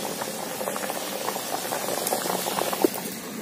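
A curry broth with taro and koi fish bubbles at a rolling boil, a steady, close, busy burble with small pops and one sharper pop near the end.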